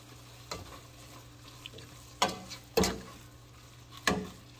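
Cooked spinach with salt is stirred in a frying pan, soft sizzling underneath a few distinct scraping clanks of the utensil against the pan, close and fairly quiet.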